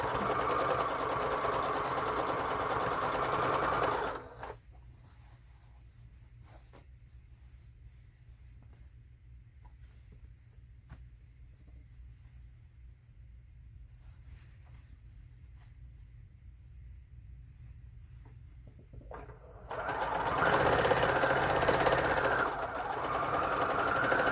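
A sewing machine stitches pieces of old denim jeans together with a quarter-inch seam, its steady motor hum running loud at the start, dropping away during a long quiet pause, then returning for another run near the end.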